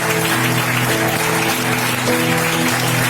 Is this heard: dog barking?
no